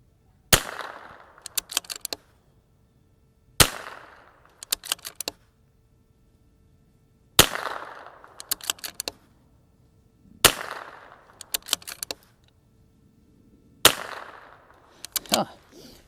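.22 rifle shots fired with Norma Xtreme LR-22 ammunition: five sharp cracks spaced a few seconds apart, each trailed by a short echo and then a cluster of light metallic clicks.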